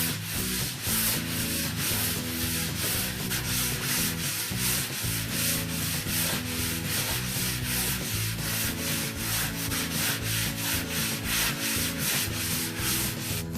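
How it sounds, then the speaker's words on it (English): Sandpaper rubbed by hand over a freshly planed wooden workbench top makes a close, loud, steady back-and-forth scratching rasp in a fast regular rhythm that continues without pause. "hit it with just a little bit of sandpaper to get rid of some of the splinters that may have come up when we were planing"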